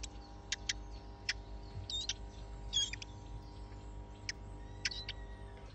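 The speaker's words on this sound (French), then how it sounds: "ils entendent le chant des oiseaux" Recorded birdsong plays to pet birds indoors: sparse, sharp chirps and short twittering calls every second or so, fairly faint over a steady low electrical hum.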